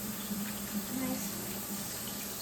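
Steady stream of kitchen tap water rinsing canned beans, a constant gentle hiss and splash, fairly quiet, with a faint voice underneath.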